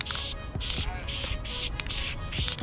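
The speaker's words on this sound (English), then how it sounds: "I'm gonna spray this bottom side with this gray paint I got." Gray aerosol paint hisses in short repeated bursts onto the bottom side of a metal part during a 1989 Chevy build, about five spray pulses with brief pauses, close and fairly quiet.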